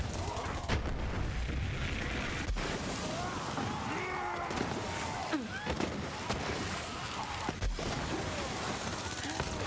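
Hex grenade blasts in Borderlands 3, a dense stretch of repeated pops, booms and gunfire-like bursts amid busy game noise, with someone talking over much of it.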